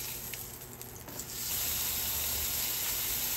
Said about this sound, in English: now that it's done searing